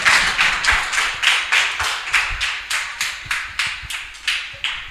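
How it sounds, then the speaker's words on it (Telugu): Children at a Sunday school program clap together to welcome a pastor, a steady, evenly paced run of about a dozen sharp claps filling the room, close and loud with no talk. "అందరు గట్టిగా చప్పట్లు కొట్టి ఆహ్వానించండి"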